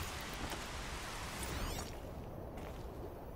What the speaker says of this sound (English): Dude, get all this rain out of my face